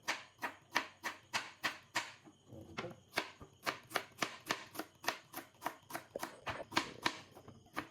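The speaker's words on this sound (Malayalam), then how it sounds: "ഈ ഉള്ളി നമ്മൾ കട്ട് ചെയ്യണം" Knife chopping onion on a board for Kerala-style chicken sausages, a steady run of about twenty sharp, evenly spaced close cuts, loud and alone.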